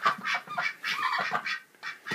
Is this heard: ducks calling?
yes